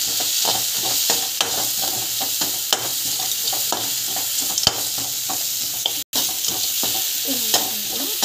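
Sliced bitter gourd with chili powder stir-fries in hot oil, a steady close sizzle broken by repeated scraping and stirring strokes of a spatula against the pan.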